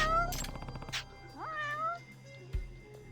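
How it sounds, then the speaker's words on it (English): A cat in the video game Judgement meows twice, clear rising and falling calls close up over soft in-game ambience and a low hum, with a brief thump near the end. "Is a cat here? I heard a meow."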